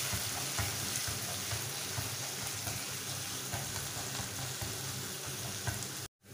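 Ginger and garlic frying in a pan for a tomato fish curry, a steady loud sizzle that holds without a break for several seconds before cutting off abruptly near the end.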